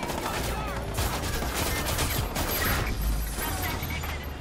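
Gunfire in Watch Dogs 2, a dense continuous barrage of overlapping shots and crashing impacts, loud throughout the whole stretch.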